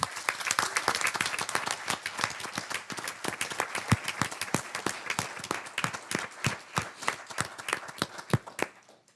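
Audience applause at a Morton Grove village board of trustees meeting in a meeting hall, a steady patter of many hands clapping close by for several seconds before fading out.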